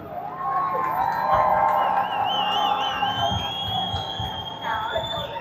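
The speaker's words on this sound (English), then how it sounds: "A round of applause to every single protesters here for a peaceful demonstration" A protest crowd gathered at a demonstration in London claps, cheers and whoops, with whistles and shrill voices rising over a dense, continuous roar of sound.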